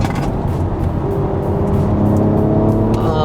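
A loud Mercedes-AMG C43 engine roars up close on a race track, pitch rising as it accelerates, with a steady mechanical whine and brief shifts.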